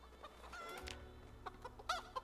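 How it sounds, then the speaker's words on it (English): Chickens cluck in a hutch, a few soft scattered clucks and short calls close by over a low background hum, with no talk. "Hello, chickens. How dirty is the hutch?"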